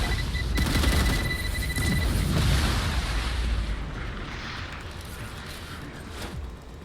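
Grenade blast in a video game: a loud, dense, rumbling explosion that holds for a few seconds, then slowly fades into a lingering roar.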